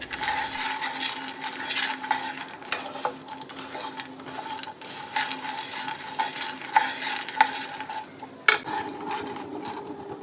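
Dry fruits lightly roasted in a pan for a date sweet, stirred with a utensil that scrapes and taps against the metal in an uneven rhythm, with a faint sizzle underneath and one sharp clink.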